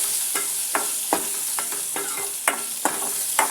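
Chopped onion frying in a pan and being mixed in, a bright continuous sizzle with a rhythmic series of scraping stir strokes, close up and with no voices.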